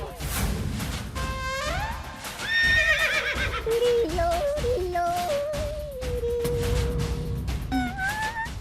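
A horse gives one long, loud whinny that rises and then wavers downward, set against a dense, busy sound bed with faint hoof clip-clop, and no talk.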